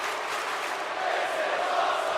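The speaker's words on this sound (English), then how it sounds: "Crowd already chanting, "This is awesome."" A large arena crowd chants and roars in an AEW wrestling video game match, a dense, sustained wash of many voices swelling slightly louder toward the end.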